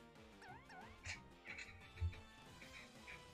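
Cat Pokémon cry during a battle in Pokémon Ultra Moon, a short squeaky electronic mewing call heard alongside looping battle music and brief game effects.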